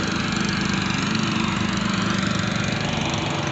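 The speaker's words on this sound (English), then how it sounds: "He got a noisy mower." Steady, loud buzz of a running lawn mower engine close by, droning evenly throughout with no speech.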